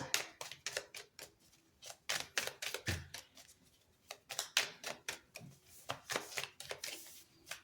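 Tarot de Django cards are shuffled by hand in a quiet series of crisp, papery riffles and taps. The bursts come in quick, uneven clusters with short pauses between them.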